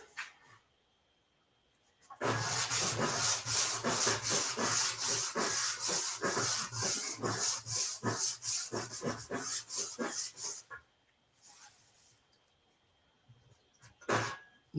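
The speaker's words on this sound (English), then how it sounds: "today I wanted to show you something to do with sanding" Wood is sanded by hand in steady, rhythmic back-and-forth rasping strokes, loud and close, lasting several seconds before stopping, with a brief final stroke afterward.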